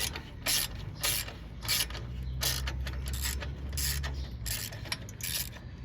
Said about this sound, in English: I'll loosen it and let you see.